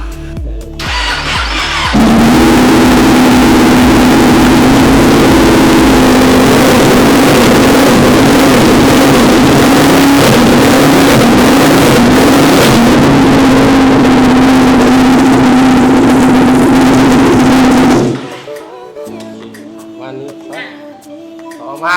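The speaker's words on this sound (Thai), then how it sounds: "ก็เดี๋ยวให้ฟังเสียงเครื่องเนาะ" A 2016 Kawasaki Z900 ABS SE motorcycle idling loudly up close, a steady rumbling engine drone held for about sixteen seconds before cutting off.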